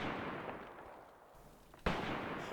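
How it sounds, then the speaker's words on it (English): An anti-tank gun firing a high explosive round in the tactical war game Graviteam Tactics during forest fighting, one sharp booming blast landing near the end over a rumbling battlefield backdrop. "Yes, they are anti-tank guns, but their high explosive rounds are nothing to sneeze at."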